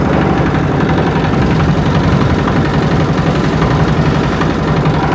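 A small boat engine runs close and loud on the Buriganga River, a steady throbbing chug with a dense low rumble and no voices over it.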